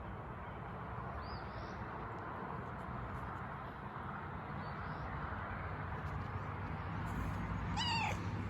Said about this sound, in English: I also spent ample time petting the cat